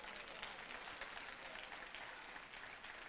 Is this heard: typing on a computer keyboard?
no